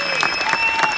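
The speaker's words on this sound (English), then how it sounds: "A big round of applause for Jennifer McKinnon here, folks." Audience applause breaks out for Jennifer McKinnon after she speaks about living with cystic fibrosis, a brief burst of clapping over a steady tone.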